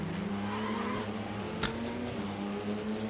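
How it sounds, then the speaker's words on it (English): Race car tires squealing and creaking in a Le Mans endurance racing video game, a steady engine drone with a brief sharp tire screech around the middle, loud and continuous with no talk. "I love hearing the tires going creak."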